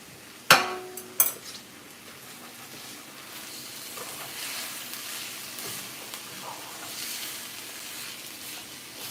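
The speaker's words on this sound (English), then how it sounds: "I drop some of the meat right here on the stove" Meat filling for pastelito empanadas drops onto a hot stove and sizzles, with two sharp clatters at the start giving way to a soft, steady frying hiss.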